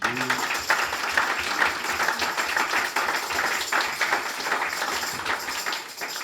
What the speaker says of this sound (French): Est-ce qu'on peut acclamer pour l'homme de Dieu?